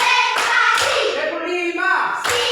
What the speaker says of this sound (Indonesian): Tepuk tangan dulu. Tepuk satu. Tepuk dua. Tepuk tiga. Tepuk empat.